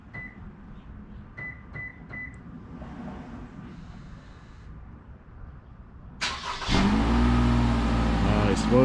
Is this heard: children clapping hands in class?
no